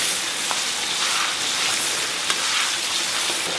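Hot pot seasoning stir-frying in chili oil in a wok, a steady dense sizzle and crackle with faint stirring scrapes, close and continuous with no talk.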